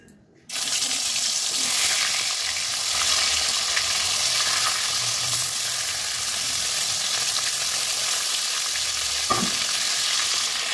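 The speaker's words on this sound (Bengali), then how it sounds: "এবার এগুলো তুলে নিয়ে মাংসগুলো দিয়ে দেবো।" Meat fries in hot white cooking oil with a loud, dense, continuous sizzle that starts suddenly and runs steadily. A metal utensil stirs it up close and clacks once near the end.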